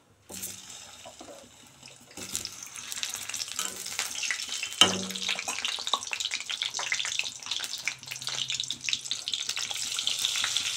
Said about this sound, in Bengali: প্রথমে আমি একটু আলুটাকে ভেজে নেব।